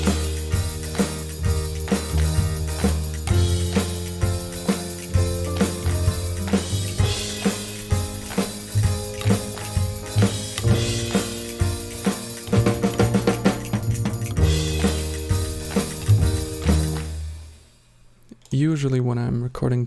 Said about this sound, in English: what I did was I recorded electric bass and then mixed that with the double bass.